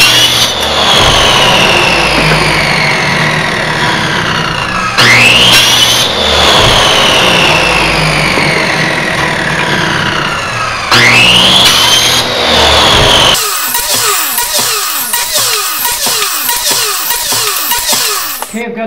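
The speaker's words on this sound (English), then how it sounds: "cut some cans to a rough length on the chop saw" A chop saw cuts cans to rough length. Its loud motor whines up and winds down in repeated cycles, and harsh grinding cutting bursts follow near the end, with no talking.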